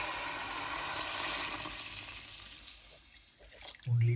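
Water running into a soup pot for a chicken soup with precooked white beans, a steady hissing pour throughout that tapers off before a brief clunk at the end.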